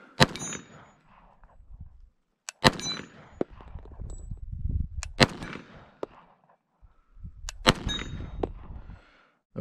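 An FN FNX-45 Tactical pistol fired at steel targets, sharp separate gunshots in short bursts, each followed by a bright metallic ring of steel, with quiet gaps and low rumbling handling noise between.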